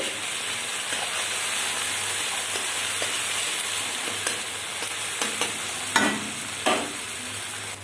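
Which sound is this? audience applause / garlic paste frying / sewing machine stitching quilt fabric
garlic paste frying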